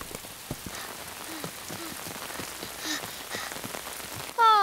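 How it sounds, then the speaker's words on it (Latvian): Steady patter of rain falling on a surface, with scattered drops tapping throughout and a brief musical tone at the very end. "Līst lietus."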